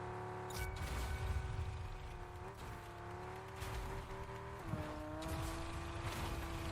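A car engine in the video game Fortnite hums and revs steadily, its pitch dipping and rising as it shifts, with occasional brief bursts of noise, fairly quiet overall.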